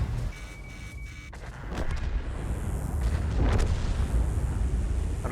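A heavy T110E4 tank gun blast in a tank video game, followed by a rumbling explosion, loud and booming, with a deep low rumble lingering throughout and no talking.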